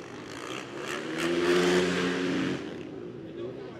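A supermoto motorcycle on a racing lap at an FIM Asia Supermoto round swells in as its engine revs high, holds a loud strained note for about a second, then fades away as it passes.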